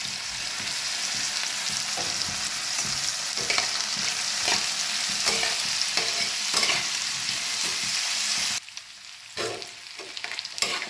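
Mixed vegetables, cashews and mung dal sizzle steadily in a pan for masala rice, with repeated scraping strokes of a spatula stirring them at irregular intervals; the sizzle drops briefly near the end before resuming.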